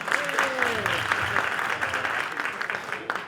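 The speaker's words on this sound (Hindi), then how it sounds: "इनके लिए तालियां बजाए एक बार।" An audience at a live music show breaks into sustained, dense applause, a steady wash of clapping heard close, with some crowd noise and a voice underneath.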